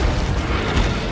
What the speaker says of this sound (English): you were supposed to die in that explosion too